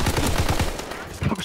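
Rapid bursts of video game gunfire from a Wii shooter, loud and close, firing in quick repeated volleys, with a brief pause near the end.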